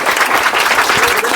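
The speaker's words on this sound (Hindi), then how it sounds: "जोरदार ताली बजाओ" Loud applause from a group of children at a live podcast session, dense steady clapping throughout a short burst.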